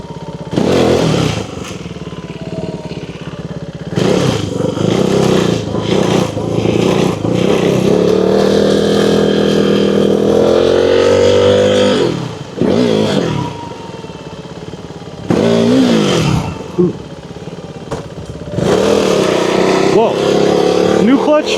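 A KTM Duke 390 fitted with an upgraded clutch revs and accelerates up close in repeated bursts, its engine rising and falling with brief pauses and some scraping clatter, while a rider's voice comes through at moments.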